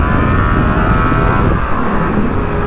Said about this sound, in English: Last wheelie of the day.